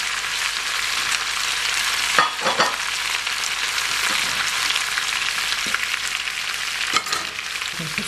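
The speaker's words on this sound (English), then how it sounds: "we'll put all the zucchini back in" Zucchini slices return to a hot pan and sizzle steadily, still giving off liquid, with a broad close hiss and a few brief stirring scrapes; no voices.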